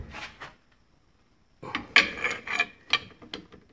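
Ball joint being forced out of a Jeep Cherokee suspension with a press, a short creak near the start, a pause, then a run of grinding, scraping and metallic squeaks close by.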